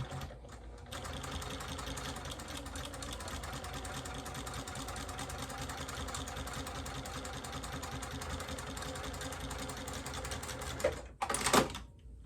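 A sewing machine runs steadily for about eleven seconds while straight-line quilting a first quilt at stitch length 3.5, giving a continuous, even mechanical whir that ends with a few louder handling clicks.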